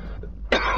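A single harsh cough bursts out after a brief quieter moment of throaty breath, close and fairly loud, with game-style background ambience underneath.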